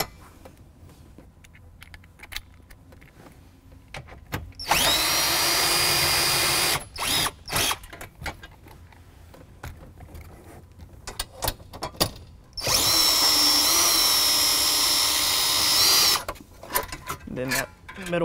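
A power tool drives out the two 5/16 or 8mm bolts holding a metal center console trim piece in a Fox Body Mustang, two long loud whirring bursts separated by clicks and handling noises, close up.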